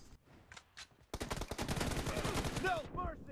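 Rapid M4 assault rifle bursts in the mobile shooter BGMI, a dense run of loud shots with a few faint shots first, then rising whistling tones near the end; game commentary is heard alongside.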